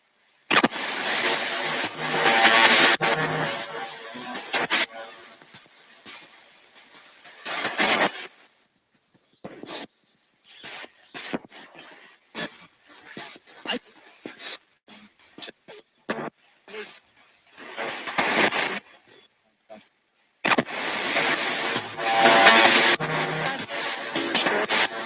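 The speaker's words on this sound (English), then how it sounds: "Each ghost box has such a unique sound" A ghost box radio sweep during a paranormal ITC session gives off choppy bursts of static and fragmented broadcast snippets, loud blasts alternating with rapid stuttering cuts and brief silences.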